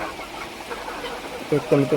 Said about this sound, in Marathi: पाऊस आल्यामुळे सर्व कोंबड्या इकडे सावलीमध्ये शेडमध्ये आलेल्या आहेत